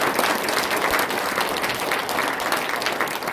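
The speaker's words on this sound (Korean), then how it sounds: "수고하셨다고 감사하다고 뜨겁게 박수하시겠습니다." A church congregation gathered for an ordination and retirement thanksgiving service applauds, with dense, sustained clapping from many hands filling the room, steady and fairly loud throughout.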